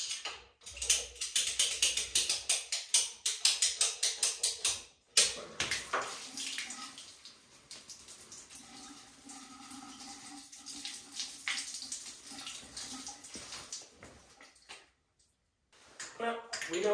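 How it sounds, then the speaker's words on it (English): Water runs steadily down a newly installed home shower drain, a loud splashing rush at first that settles into a quieter trickle and gurgle, with a brief stop before it resumes. "We have to try out the shower drain anyways."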